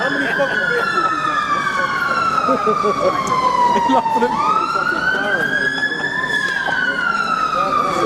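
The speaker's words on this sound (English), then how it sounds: "Two fire engines, damn." Fire engine sirens wailing past in a procession of emergency vehicles, a loud, close rising-and-falling wail that dips and climbs again, with traffic noise underneath and someone briefly speaking over it.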